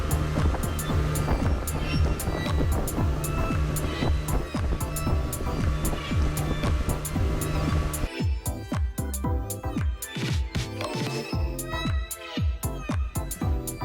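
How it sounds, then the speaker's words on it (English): Ocean waves on the open Indian Ocean off Bali, heard from a moving boat as a loud continuous wash of water and engine rumble, with thumps of the hull hitting swells in the later part. "there's some very big waves crashing in on the shore."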